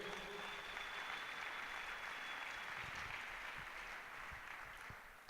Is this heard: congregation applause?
yes